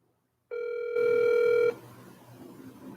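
Telephone dial tone before a call: a brief harmonic tone, then a loud steady dial tone holding for under a second before cutting off into faint background noise, with no talking.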